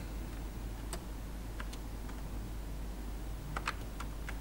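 Computer keyboard keys on an MSX home computer are pressed during a game, giving faint, scattered clicks with a quick cluster near the end over a quiet steady hum.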